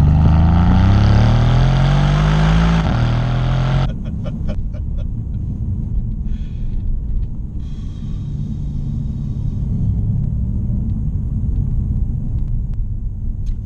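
A 2017 Mercedes-AMG C63 S coupe's V8 revs up with a rising, loud roar for a few seconds. It then cuts back to a low, burbling idle rumble with faint ticks and crackles.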